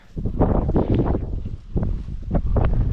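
Strong wind on Mount Masaraga in Albay, in thick fog, buffets the microphone in loud, uneven gusts, with a brief lull midway before the roaring picks up again.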